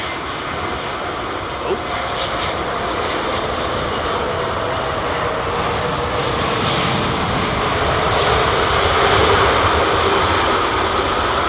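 Jet engines of a British Airways Airbus A380 at London Heathrow, a steady loud broadband roar that swells slightly toward the end, continuous throughout with no clear voices over it.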